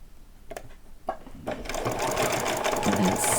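A sewing machine sews a back stitch on a Halloween dress, with a few brief bursts giving way to a steady, close whir that runs to the end.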